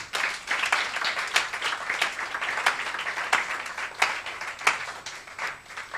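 A church congregation at a Sunday service applauds for Jesus, with loud sustained clapping from many hands filling the room, sharp individual claps standing out, and a few voices mixed in.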